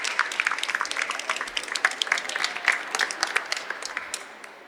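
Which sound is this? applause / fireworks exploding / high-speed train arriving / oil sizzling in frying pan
applause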